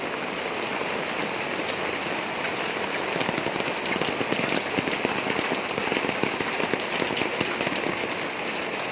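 Dense, steady downpour of heavy rain drumming on surfaces, loud and continuous with a constant hiss of falling water.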